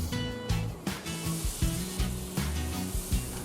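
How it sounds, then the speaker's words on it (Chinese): Flour frying in butter in a pan for white sauce, a steady soft sizzle with occasional stirring scrapes and pulses, close and alone without talk. "炒点面粉"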